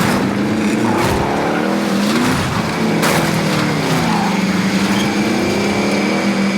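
A car engine revs and drones steadily while driving across open ground in Warzone, with rising and falling pitch and a brief tire skid, loud and close throughout.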